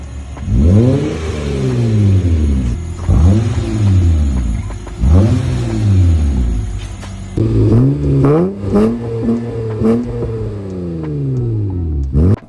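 A loud, catless Acura TL Type S exhaust revs repeatedly, each deep rumbling swell rising and falling, then quicker blips of throttle near the end.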